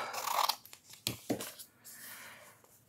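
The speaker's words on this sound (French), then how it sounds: "je vais couper un morceau ici" Scissors snip through a piece of paper for an art journal: a few quiet, close crisp cuts and rustles in short irregular bursts, with no talking.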